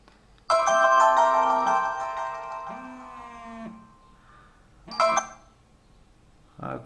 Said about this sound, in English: If we have a look and call our HTC phone